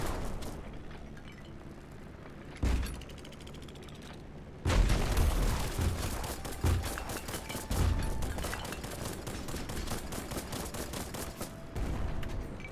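Video game gunfire crackles in bursts, with sharp rapid volleys and louder booming shots breaking in and out over several seconds.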